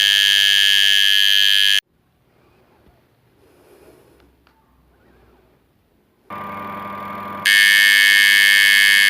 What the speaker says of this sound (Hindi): ये टाइमर जब ऑफ होगा तो बेल बजने लगेगी।